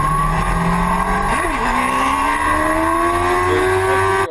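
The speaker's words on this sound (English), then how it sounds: "It rips open the throttle in order to get the motorcycle." A motorcycle engine is loud and steady throughout, its pitch climbing as the throttle is held open, with a brief dip before rising smoothly again for a wheelie.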